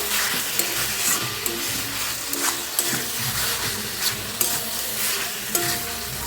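Fried potatoes are sautéed in a tomato curry base, with a steady close sizzle and repeated scraping, clacking strokes of a spatula stirring the pan.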